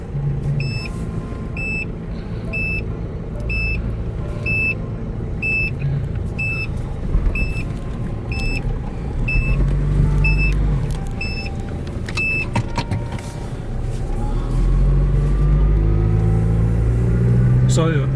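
A Mazda Bongo pop-top camper van drives along with a steady low engine and road rumble, a regular electronic chime beeping repeatedly for the first twelve seconds, while people talk inside the cabin.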